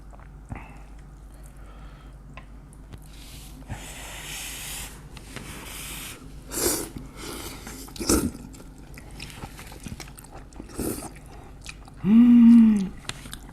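Cheesy birria ramen noodles being chewed and slurped close to the mic, soft wet chewing bursts spaced through a quiet room with a brief hum near the end.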